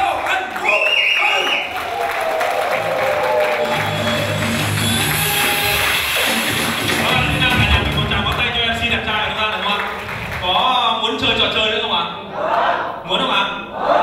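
A large crowd at a camp gathering breaks into loud, warm applause, with cheers, shouts and some laughter rising through sustained clapping. The roar holds for most of the stretch, then thins briefly before swelling again.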